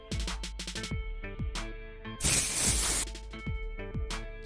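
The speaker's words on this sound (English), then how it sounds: "Spray a bit of hairspray on one hand" One short, steady hiss of hairspray from an aerosol can, lasting under a second, sits amid a plinking music track.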